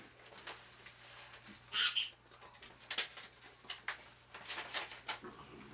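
A pet bird cooing and chirping softly, with brief faint calls heard over a steady background hum and scattered clatter, and no one speaking.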